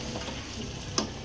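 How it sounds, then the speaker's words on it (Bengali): Malabar spinach frying in a pan with fried onion and chili, a soft steady sizzle throughout with one sharp metallic tick near the end, no voices. "শাকটা এখন আমরা পেঁয়াজ মরিচ দিয়ে ভালো করে ভেজে নিব একটু"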